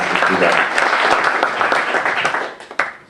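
Applause at a Milan Junior Camp 2013 press conference, a brisk burst of many hands clapping close and loud, thinning out and tapering after about three seconds.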